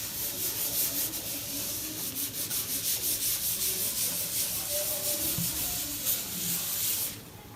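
Steady, close rubbing of an eraser across a drawn equilibrium diagram produces a continuous rhythmic scrubbing hiss that stops abruptly near the end.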